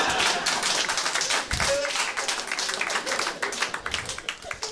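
Comedy club audience breaking into sustained applause and clapping, a dense crowd texture that starts strong, briefly swells, then gradually thins toward the end.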